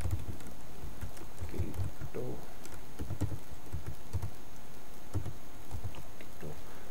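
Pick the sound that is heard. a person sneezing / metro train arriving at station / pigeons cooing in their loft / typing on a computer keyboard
typing on a computer keyboard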